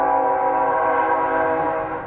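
A train passes with a sustained, loud horn-like tone layered over a low rumble, fading slightly at the end.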